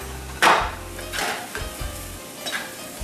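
Boiled potatoes tumble into hot spices in a pan, with a sharp clatter and scrape of a spoon against metal, a few further knocks and stirring scrapes over a soft background sizzle.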